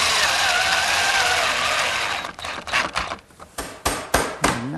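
A 1.5-inch screw is driven into a wooden jig, a steady grinding whir for a couple of seconds, then a run of sharp knocks and clatters of the tool against the wood, close and loud.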